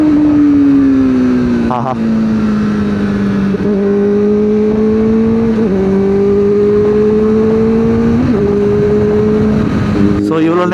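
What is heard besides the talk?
Kawasaki ZX-4RR motorcycle riding on road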